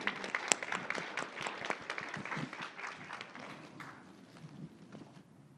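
An audience claps for a panel at a traditional healing summit, a dense burst of applause that starts strong and gradually thins and fades out.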